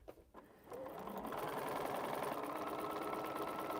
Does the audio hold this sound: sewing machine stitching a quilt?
yes